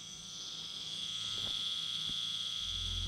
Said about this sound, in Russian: послушайте, как нежно жужжит машинка